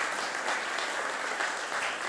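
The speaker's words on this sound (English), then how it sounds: "let's give a round of applause once again for her amazing performance" An audience at an Everest Day 2026 event applauds after a young girl's performance, producing a continuous dense wash of clapping at a steady, moderate level with no voices.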